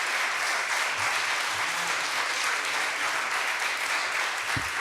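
A rally crowd applauds Senator Ben Allen at the California Clean Money Democracy Rally, with sustained, even clapping from many hands throughout.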